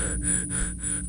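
A man panting hard after a frightening chase in a horror tale: close, rhythmic gasping breaths, about four in quick succession, with no talk.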